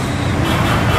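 ANS buses pull into the busy Pondok Pinang Lebak Bulus bus terminal with a loud, dense, continuous engine roar and traffic rumble, close by and unbroken.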